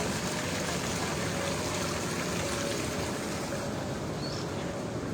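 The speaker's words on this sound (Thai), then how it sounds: "เหลือแต่น้ำตกอย่างเดียวค่ะ" Small artificial waterfall at a cafe beside a roadside PTT fuel station splashes in a steady, even rush of falling water, continuous and moderately faint with no talking.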